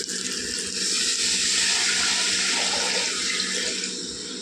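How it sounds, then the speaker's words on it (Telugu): A steady, loud rush of water pouring into a cooking pot, continuous for several seconds with a slight swell in the middle. "నీళ్ళు వేసుకుందామండి"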